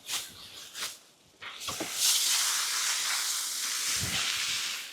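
Water sprays onto a compost pile in a strong, continuous hissing rush. Shorter splashy bursts come first, then a steady close spray runs to the end.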